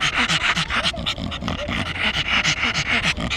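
Heavy, rapid panting from a dog with breathing problems, close by, a steady run of raspy breaths with snorting edges, labored and continuous throughout.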